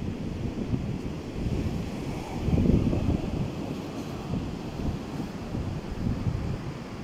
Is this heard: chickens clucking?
no